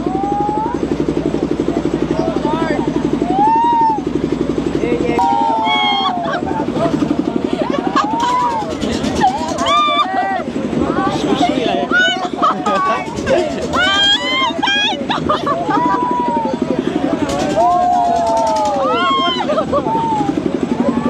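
A Pankhiraj boat ride at a traditional village fair runs with a steady mechanical drone beneath loud crowd shrieks and chatter that rise and fall in waves throughout.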